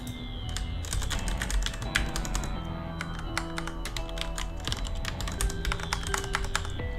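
Computer keyboard keys clatter in rapid, irregular taps, close and distinct, with bursts of typing continuing steadily throughout.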